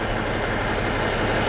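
A Cummins ISX15 diesel in a 2012 Freightliner truck with a million miles, idling close by in a steady low rumble with a broadband mechanical drone, unbroken and even throughout.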